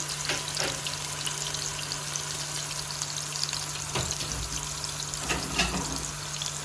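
Oil sizzles and crackles steadily in a pan as potatoes fry, with a low hum underneath and a few sharp clinks and scrapes.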